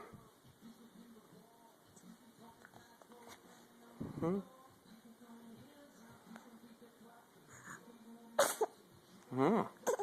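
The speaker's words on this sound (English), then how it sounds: "Is that a half sneeze?" A small, sharp half-sneeze bursts out twice amid quiet background rustling, with a soft voice murmuring nearby.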